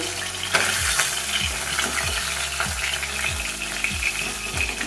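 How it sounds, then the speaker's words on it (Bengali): Pabda fish fry in oil in a pan with a bright, constant hiss, while a utensil scrapes and taps at a regular rhythm. "এভাবে আমি বাকি মাছগুলোও ভেজে নেব"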